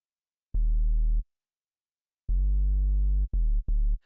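Deep sub bass notes shaped by a sidechain volume curve: a long held tone, a pause, then a longer one followed by two short chopped hits, clean and loud with no other sounds.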